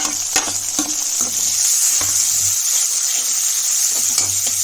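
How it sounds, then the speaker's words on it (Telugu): Chopped tomato and curry leaves sizzle in hot oil with onions. A loud, steady frying hiss runs throughout, with rhythmic spoon strokes scraping the pan up close and no voices. "ఇప్పుడు మనం టమాటో వేసుకుందాం. టమాటో, కరివేపాకు వేస్తాము."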